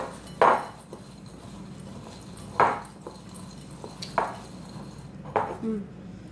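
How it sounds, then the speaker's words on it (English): Spiced pumpkin seeds being mixed by hand in a bowl come through as four loud, separate rustling, clattering scoops spread a second or so apart, up close and without talk. "I'm going to mix this one up with my hands."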